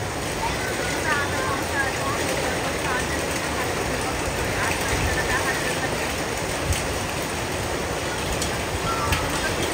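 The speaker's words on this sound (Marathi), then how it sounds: "तोपर्यंत पाऊस असा जोराचा आलेला होता" Heavy monsoon rain pours steadily outside a house in a continuous dense hiss, with a voice talking over it throughout.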